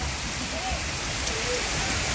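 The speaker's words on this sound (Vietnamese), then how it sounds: "Đang mưa rất là to luôn nha." Heavy rain pours steadily in the Vietnamese Central Highlands, a dense, loud, continuous hiss close by with no breaks, filling the whole stretch.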